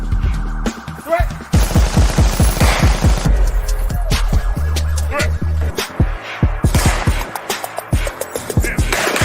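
Rapid bursts of gunshots at a shooting range, sharp repeated cracks in quick strings and scattered single shots, loud and close, with some voices between volleys.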